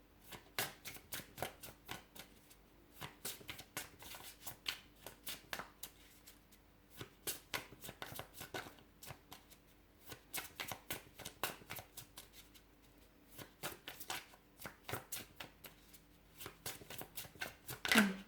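Tarot cards being shuffled by hand for a reading, a steady run of crisp riffling bursts close to the mic, repeating in waves for the whole stretch with brief pauses between passes, no voices.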